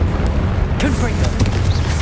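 Confringo fire-blast spell going off in Hogwarts Legacy, a booming burst with a deep rumbling low end that sustains throughout, with spoken voices and spell calls over it.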